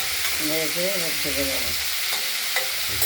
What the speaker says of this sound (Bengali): ঢাকনা খুলে আমরা একটু নাড়াচাড়া দিয়ে নিলাম